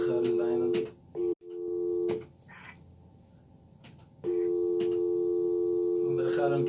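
A telephone line tone plays after a caller's line drops on a call-in broadcast, a steady, loud electronic hum that cuts off briefly, returns, fades for a couple of seconds, then comes back, with a voice heard faintly underneath.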